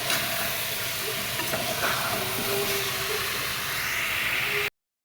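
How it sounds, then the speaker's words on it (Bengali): Water is poured into a pan of colourful cooking vegetables (yellow, green and white), producing a steady, loud hiss and sizzle of steam that runs continuously before cutting off abruptly. "তো চলো জলটা দিয়ে দিই ঝকঝক।"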